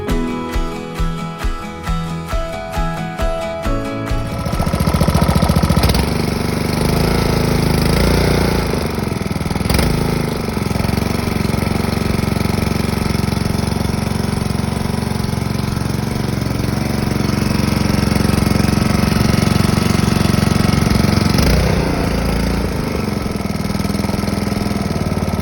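A 10 1/4 gauge miniature railway locomotive starts with a few spaced chuffs, then settles into a loud, steady engine drone that runs close and unbroken for more than twenty seconds.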